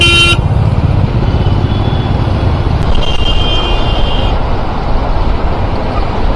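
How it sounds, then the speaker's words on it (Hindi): Heavy road traffic slowed by road works, a loud continuous rumble of engines from cars and motorbikes close by, with brief horn toots breaking through. "इतने रोड के काम की वजह से इतना ट्रैफिक"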